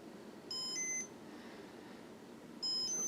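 A 1991 Casablanca Marquis Comfort-Touch ceiling fan in bright brass gives two short bursts of high electronic beeps from its light control, separated by a quiet pause, with a soft room hum underneath.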